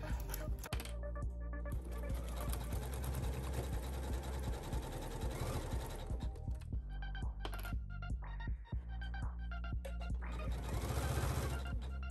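Sewing machine stay stitching the bias-cut front halter pieces of a dress, running in rapid mechanical bursts with short stops and restarts, close and clear with no talk.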